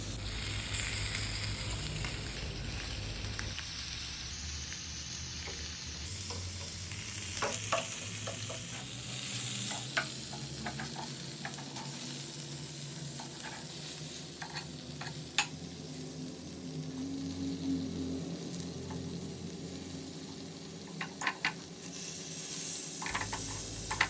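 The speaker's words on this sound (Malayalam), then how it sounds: "വെജിറ്റബിൾസിനെയൊക്കെ നമുക്ക് മറിച്ചിട്ട് കൊടുക്കണം." Vegetables for a beef roll fry and get stirred in a pan, a steady close sizzle with scattered scrapes and clinks of the utensil over about twenty-four seconds, with no voices.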